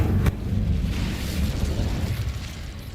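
The Incendio fire spell being cast in Hogwarts Legacy, a sharp burst followed by a deep, sustained roaring whoosh of flame that fades gradually.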